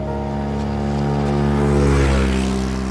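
A motorcycle approaches along a new road through the hills at Nagas, Tiwi, Albay. Its steady engine drone swells to a loud peak as it passes close by, then begins to fade, with no talking.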